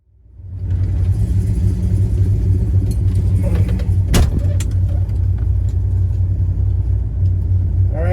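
A 1965 Plymouth Satellite idles steadily after starting up, its deep engine rumble loud and close throughout, with a brief sharp knock partway through and no one speaking.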